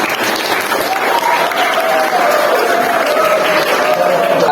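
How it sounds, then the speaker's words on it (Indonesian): Steady, loud audience applause at a school Maulid Nabi celebration, a dense continuous wash of many hands clapping with faint voices mixed in. "Kasih tepuk tangan dulu."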